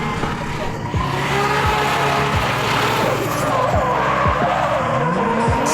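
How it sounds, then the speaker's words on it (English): Nissan 180SX drift car at an Irish Drift Series round, its tires squealing loudly and continuously as it skids, with the engine roaring throughout and a few sharp bursts of rev or backfire. "It is Conor Ansbro in the beautiful Candy Culture Era 180SX."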